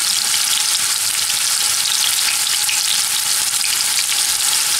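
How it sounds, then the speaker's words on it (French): Meatballs brown in olive oil in a non-stick pan, giving a loud, steady, dense sizzle that holds unbroken from start to finish, close and alone with no talking. "je vais dorer mes boulettes de viande dans l'huile d'olive sur tous les côtés"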